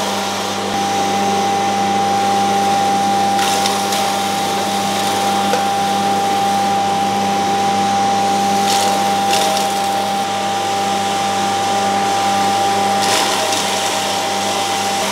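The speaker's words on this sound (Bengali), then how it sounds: "তো মেশিনটা সবার আগে আমি অন করে দিলাম।" A flour mill machine grinds dried chillies with a loud, steady motor drone and whirring hum that runs unbroken throughout, with occasional brief rattling bursts as the chillies are fed in a little at a time.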